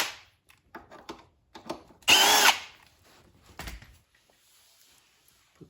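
A tool removing 8mm nuts from a Yamaha GP1200i jet ski carburetor gives one short, loud whirring burst of about half a second, surrounded by quiet scattered clicks and handling noises.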